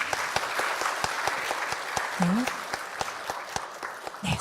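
Applause at a church thanksgiving service marking a Christian magazine's 70th anniversary, following a plaque presentation to a Methodist women's association. Fairly steady clapping with scattered sharp claps, a brief voice rising midway and another at the end.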